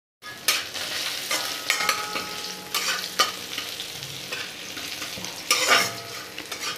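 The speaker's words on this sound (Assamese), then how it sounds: "গোটা জিৰা আৰু পাঁচফোৰণখিনি ভাজি লোৱা হৈছে" Whole cumin and panch phoron frying in hot oil over onions, a steady close sizzle with scraping stirs and sharper crackling bursts now and then, no talking.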